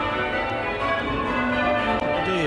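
A peal of church bells rings on the Isles of Scilly, overlapping loud resonant strikes forming a dense continuous wash of tones, close and alone without talk.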